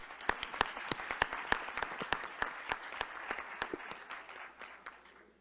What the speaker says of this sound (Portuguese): Demos o Dom Ricardo com um aplauso, por favor.